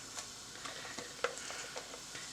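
An onion and garlic mixture is stirred in a pan, with faint soft scraping strokes repeating at a steady rhythm over a quiet background sizzle.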